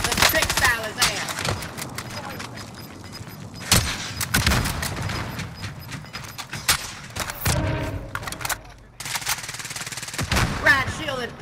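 Rapid automatic gunfire at a riot-shield enemy in a first-person shooter, loud sharp bursts and single cracks spread across the stretch while players talk and shout over it.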